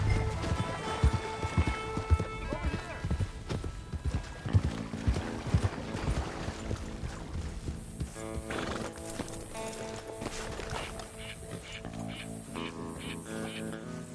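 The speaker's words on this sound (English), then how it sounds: "I can ride a horse" Horse hooves galloping in the video game Red Dead Redemption 2, a quick clip-clop rhythm with neighing and whinnying, mixed with game music and effects and continuing across the whole passage.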